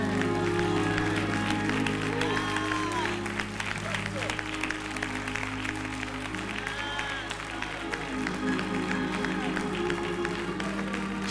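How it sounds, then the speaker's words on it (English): A church congregation claps during a sermon, steady sustained hand clapping over a low droning organ or keyboard tone and music, continuous for about eleven seconds at moderate level. "Come on and clap your hands."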